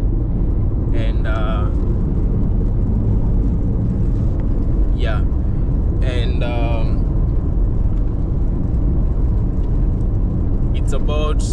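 A car rolls along the highway between Kisumu and Nyabohanse on a long solo drive, giving a steady, loud low road rumble throughout while a voice speaks now and then above it.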